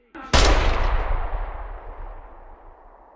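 A single gunshot in the VR shooter Bravo Team: one sharp, loud crack close by, followed by a long rumbling tail that fades slowly over about three seconds.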